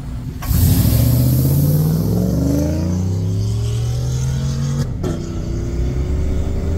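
A Chevy Silverado 5.3 V8 with long-tube headers fires up and settles into a deep, steady idle, close and loud, with a low rumbling exhaust note and a brief blip near the end.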